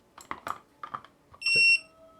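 A Bishop Power Wand tattoo machine gives a single short, bright electronic beep as its pedal connects. It comes after a few soft murmurs and is followed by a lower, quieter tone.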